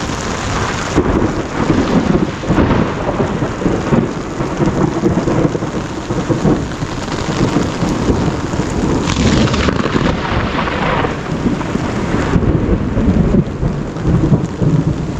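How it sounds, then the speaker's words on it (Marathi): A heavy monsoon thunderstorm in the Konkan, with loud, dense rain pouring down steadily and deep thunder rumbling close by throughout, no voices. "ढग वगैरे आजूबाजूला वाजत आहेत. हे बघा, वीज पण पडते."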